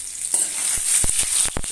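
Four eggs frying in a pan with crackling sizzle and occasional sharp spatula scrapes and stirring taps, close up, no talking.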